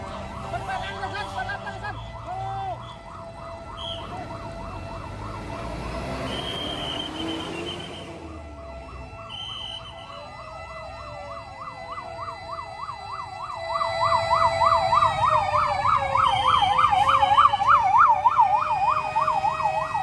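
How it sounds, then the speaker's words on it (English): Several police and fire engine sirens wail and yelp together over a rumbling background, rising and falling in overlapping cycles and growing louder toward the end. "There were police and fire engines everywhere, sirens filling the air"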